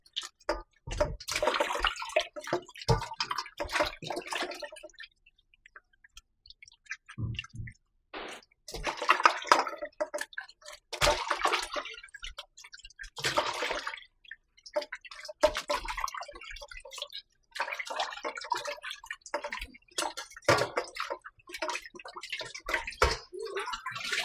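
Red snapper rinsed under running water in a kitchen, with a steady splashing stream broken by brief pauses, wet squishing handling and scattered drips, loud and close throughout.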